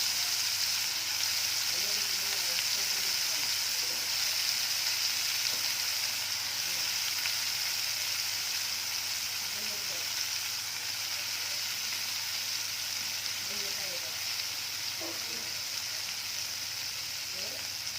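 Shrimp frying in a pan of oil with butter, a steady bright sizzle that runs unbroken, with faint low sounds from the kitchen beneath it.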